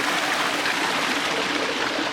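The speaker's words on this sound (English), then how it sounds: "I like this water fountain because It's like it comes from." A water fountain in Vancouver flows in a steady, close, continuous rush and splash with no break, and no voices are heard.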